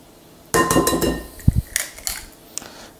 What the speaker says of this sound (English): Crack the egg in